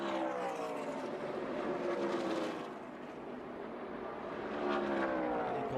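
Race trucks roar past on a speedway straightaway at the 2018 PPG 400, engines loud and sustained as one pulls out of the draft to pass, the pitch dipping midway and then rising again as the pack sweeps by.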